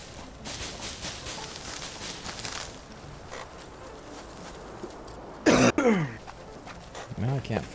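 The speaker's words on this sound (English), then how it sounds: "Wish this cough would go away." A lingering cough from a man, heard as a short, sharp cough and throat-clearing burst amid game ambience and talking voices.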